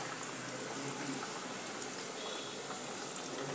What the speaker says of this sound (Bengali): তেলটা আমার গরমই হয়ে আছে। এর মধ্যে আমি এগুলো ছেড়ে দিলাম।